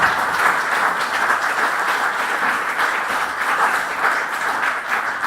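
Steady, dense applause from an audience welcoming a retired judge to the lectern for a talk on religious liberty, sustained and even throughout with no voices over it.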